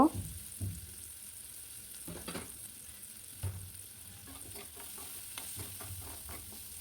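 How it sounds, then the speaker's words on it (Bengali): Carrots fry quietly in a pan for a homemade beef sizzling dish, giving a soft, continuous sizzle broken by a few sharper spatula scrapes and taps, with no talking. "গাজরকে কিছুক্ষণ বেজে নিচ্ছি গাজর দিয়ে কিছুক্ষণ রান্না করব"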